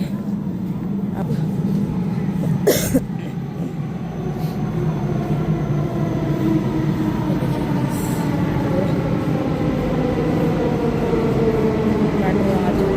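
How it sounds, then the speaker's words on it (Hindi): A metro train pulls into a station with a steady rolling rumble and rising wheel squeal, one sharp clatter near the start, and voices talking faintly over it. "मेट्रो आ गई है अब।"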